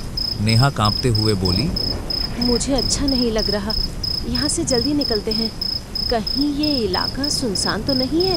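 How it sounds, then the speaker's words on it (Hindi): Crickets chirp at night in dark open country, a steady high shrill trill that runs unbroken under someone speaking throughout. "चारों तरफ अंधेरा और दूर से झींगुरों की आवाज आ रही थी।"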